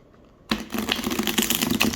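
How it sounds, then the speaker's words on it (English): After a moment of near silence, a deck of tarot cards is riffle shuffled up close, a rapid fluttering rattle of cards snapping together. "I do riffle shuffle all my decks"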